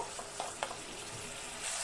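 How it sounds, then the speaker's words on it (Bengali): Chopped tomatoes frying in a pan for a smoky fish jhalda, a faint, soft sizzle with a few light scraping stirs, quiet and close with no voices. "টমেটোটা দিয়ে আবারও 2 মিনিট ভালো করে"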